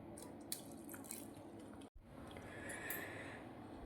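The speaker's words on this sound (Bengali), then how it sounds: "এবার এতে সামান্য একটু জল মেশাবো।" Water trickles steadily and quietly into a bowl of ground, soaked lentil batter being made for ros bora, a soft continuous pouring with no talk.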